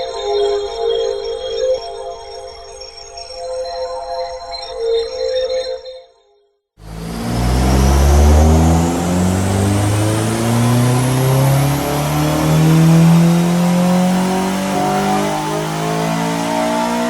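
A Honda Civic EP3 Type R strapped to a rolling road dyno makes a full power run. After a brief electronic tone and a moment of silence, a loud engine revs up through the gears, rising in pitch close by.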